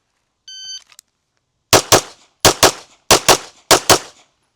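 Rapid pistol gunfire on a practical shooting drill: four quick strings of two to three sharp, loud shots each, after a brief electronic timer beep at the start.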